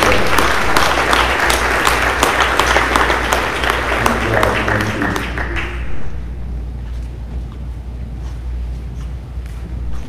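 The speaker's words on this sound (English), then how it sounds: "Please give these nine seniors a round of applause for coming up" Loud, full audience applause for nine seniors at a school awards evening, sustained for about five seconds before fading into quieter room noise with scattered claps and faint movement.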